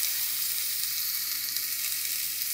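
Steady, loud sizzle of cooked moong dal hitting a hot pan for a ridge gourd curry, a dense continuous hiss with no pauses and no voices.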